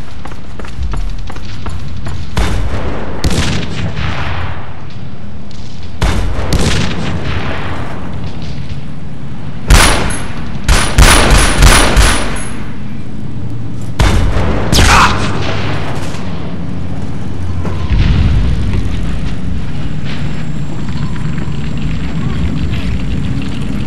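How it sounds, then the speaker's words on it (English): World at War game combat: heavy booming grenade blasts and bursts of gunfire crack loudly over a constant battlefield rumble, with shouted voices in between. "Down! Grenade!"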